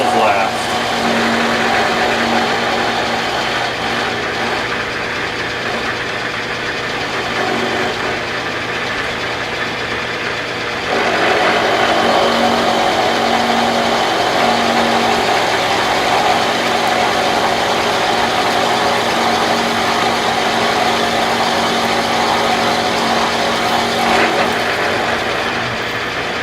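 Metal machine tool cutting a T-nut for a quick change tool post with flood coolant running, a steady loud whirring grind with a coolant hiss, getting a bit louder partway through, under occasional talk.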